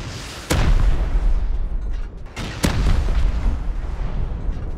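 Two loud booming explosion blasts in the video game Rust, a couple of seconds apart, each followed by a rumbling roar over a constant low background.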